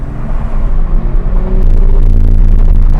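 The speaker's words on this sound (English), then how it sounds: "that's the buffeting" Heavy, throbbing low wind buffeting inside a 2021 Toyota GR Supra 3.0 cruising just above 50 mph with the windows down, loud and pulsing, with no voices.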